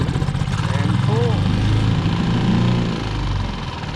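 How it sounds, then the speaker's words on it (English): A brand new outboard boat motor starts and runs on the first pull at anchor, its loud steady mid-range engine drone filling the whole stretch with slight variations in pitch. "Definitely something nice about having a brand new outboard. It starts right up every time."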